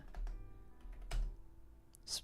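Quick typing on a computer keyboard, a few scattered clicks and taps in irregular rhythm, close and fairly soft against a faint background hum.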